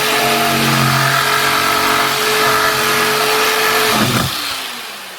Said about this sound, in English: And today we're gonna use a jigsaw. So cut on the outside edge.